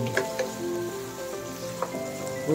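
Sizzling vermicelli noodles in a pan as carrots go in for sotanghon guisado, a steady close frying hiss with a few sharp clinks and stirring scrapes.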